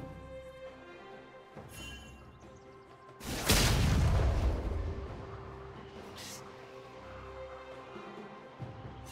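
A turret being destroyed in League of Legends, with one heavy crashing boom about a third of the way in that rumbles and fades slowly over quiet game background sounds.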